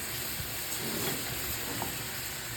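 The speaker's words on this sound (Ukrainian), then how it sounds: "тепер потихеньку хай вона смажиться" Liver sizzles gently in a hot pan over low heat, a steady low crackle and hiss with no voices.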